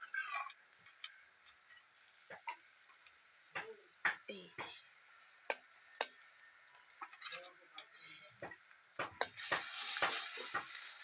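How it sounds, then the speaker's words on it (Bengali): Onions frying in a pan with ginger-garlic paste and onion paste for chicken kosha, a faint hiss under quiet talk, broken by sharp spoon clinks and scrapes and building to a louder sizzle at the end. "এখন এখানে দিয়ে দিচ্ছি আদা রসুন আর একটুখানি পেঁয়াজ বাটা"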